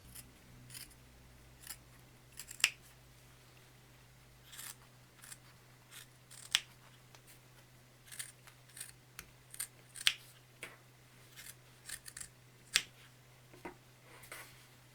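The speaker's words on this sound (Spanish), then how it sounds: "Ahora cortamos con las tijeras todo el patrón a medio centímetro de costura." Scissors snip through patchwork fabric around a sewn Christmas tree pattern in short, crisp, close cuts spaced irregularly over a low steady hum.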